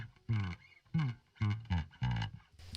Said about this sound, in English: this MDA pseudo stereo which takes them from this